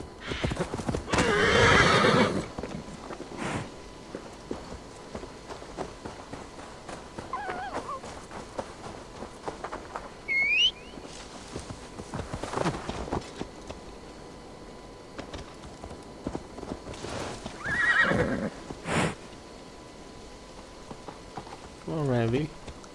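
A horse in the Viking-era game Assassin's Creed Valhalla gives several whinnies and snorts among clip-clopping hooves, with scattered game effects and someone talking in the background.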